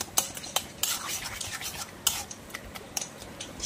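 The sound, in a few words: stirring taro leaves and chickpeas in a pan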